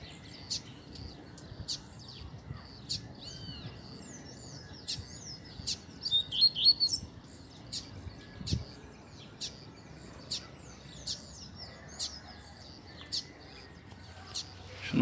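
A double-collared seedeater (coleiro) sings bright, high chirping phrases close and clear, repeated in bursts. The song grows busier in a dense flourish midway and carries over a quiet background.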